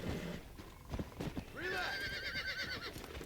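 Horse in the Red Dead Redemption video game neighs loudly in a long rising and falling whinny while being broken, hooves clopping beneath it, with someone talking over parts of it.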